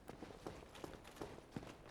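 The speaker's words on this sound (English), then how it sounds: "Alright, I hear footsteps. He might be in that room." Footsteps in the video game Dark Souls Remastered, a faint quick series of about six evenly spaced steps, like someone running nearby.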